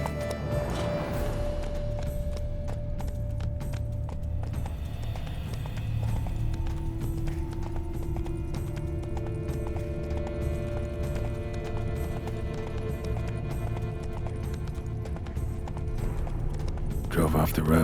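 Roach, Geralt's horse in The Witcher 3: Blood and Wine, gallops along a road with a steady drumming of hooves under game music and ambience, with speech over the top.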